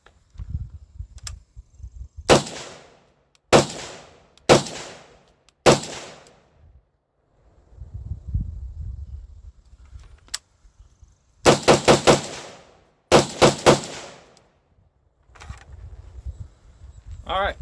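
A SIG MCX Spear .308 rifle firing Winchester M80 ball through a HUXWRX muzzle brake, with sharp, loud shots in quick strings of three to four, separated by quieter gaps filled with low rumble and handling noise.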